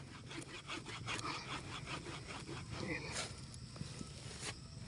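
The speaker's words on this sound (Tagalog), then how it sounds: "Naglalagari." Hand saw cutting through wood in a rural countryside setting: steady back-and-forth strokes in a close, even rhythm that continue through the whole stretch.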